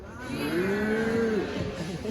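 Audience members at a Christmas storytelling event imitate hungry Norwegian cows, a single drawn-out group moo rising then falling, moderately loud in a roomy hall.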